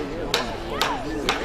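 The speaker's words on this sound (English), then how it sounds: "With the pounding of a hammer" A hammer strikes three times at an even, unhurried pace while a wooden memorial cross is fixed in place outdoors among trees, each blow a sharp, close knock over a faint background murmur.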